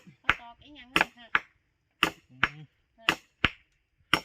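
A hammer drives nails while a kitchen roof is being built. Sharp, loud blows land in an irregular rhythm, with someone talking between the strikes.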